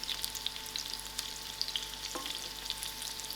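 Chicken kebabs fry in hot oil, giving a bright, continuous sizzle dotted with small pops and crackles, close and fairly loud, with no voices.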